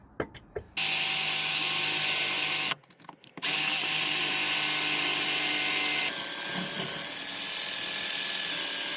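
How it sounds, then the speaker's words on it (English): A power drill whines steadily and loudly while drilling out a snapped bolt on a Toyota Yaris, pausing briefly once before resuming with a continuous high-pitched grinding drone. "so I'm gonna drill it in and gonna retap it again"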